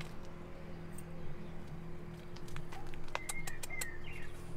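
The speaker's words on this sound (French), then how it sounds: "Il y a un nid en fait dans le mur là d'oiseaux." Small birds nesting inside a wall give a few faint, high chirps in the last second and a half, heard against a steady low hum and background noise.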